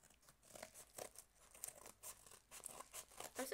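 Scissors cut open a medium-sized mail package from Green Pumpkin Shop, giving close, crinkly snips and rustling plastic or paper in uneven bursts, with no talking.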